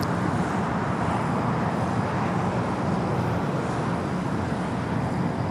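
A nine-year-old Boeing 787-10 Dreamliner arriving at LAX from Tokyo Haneda produces a broad, steady roar of jet noise mixed with distant airport traffic rumble, continuous and moderately loud with no talk.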